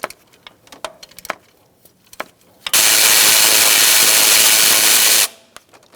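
A power tool works on the starter bolt of a 2002-2006 Honda CR-V. A few metallic clicks and taps come first, then a loud, steady whirring burst runs for a couple of seconds and cuts off sharply.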